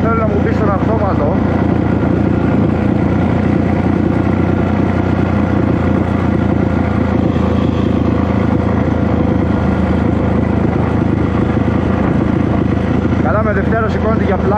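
A loud motorcycle engine drones steadily and close during wheelies, with its revs rising and falling throughout.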